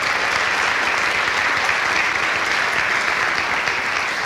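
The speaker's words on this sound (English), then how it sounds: "just so that we get them another round of applause" A school auditorium audience gives a jazz orchestra a loud, sustained round of applause, thick and even clapping from many hands, close and unbroken from start to finish.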